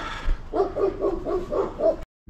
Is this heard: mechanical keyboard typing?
no